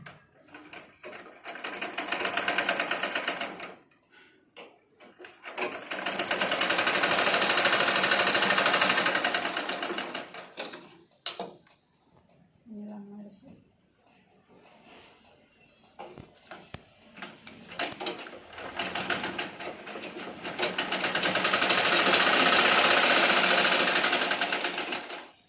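A sewing machine stitches strips of blouse fabric in loud, steady bursts of running, pausing briefly between runs before starting again.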